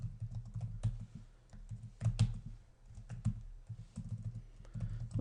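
Quick typing on a computer keyboard during network switch configuration, close soft clicks and thumps in uneven bursts with brief pauses, no talking.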